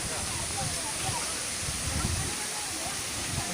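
Steady, loud broadband rush of the Coban Rondo waterfall, a continuous close roar of falling water with no distinct breaks and faint voices mixed into the wash.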